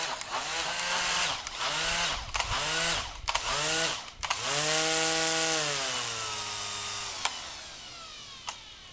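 Worx 56V WG191 cordless string trimmer motor whining up and down in pitch through several quick revs, then holding a sustained run before winding down, close and fairly loud.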